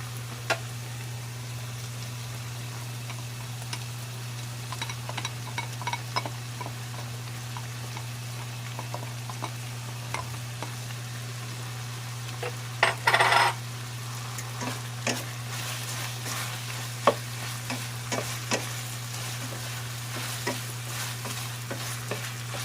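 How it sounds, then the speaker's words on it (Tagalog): Bagoong alamang (shrimp paste) frying in a pan for crispy pork, a constant soft sizzle under a steady low electrical hum, with a sharp scraping burst midway and scattered light clinks. "Sa ngayon guys, ilagay na natin yung ating bagoong alamang"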